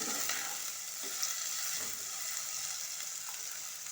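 Onions fry in a pan for a curry, a broad steady sizzle with soft stirring scrapes, close and even throughout, no voices.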